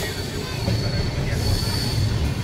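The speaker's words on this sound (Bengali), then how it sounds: "অন্য একটা ডিজেল লোকোমোটিভ সামনের দিক দিয়ে অ্যাটাচ হয়ে ওদিকে টানছে" The Kanchan Kanya Express, hauled by a diesel locomotive, runs loud and close, a continuous rumble of wheels on rails topped by a sustained high squeal.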